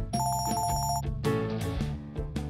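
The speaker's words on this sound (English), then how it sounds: "Oh, I think this is Piper's phone" A phone ringing inside the video game Piper's Pet Cafe, a repeating electronic ring pattern over ongoing game music, fairly loud and close for about a second before the music carries on alone.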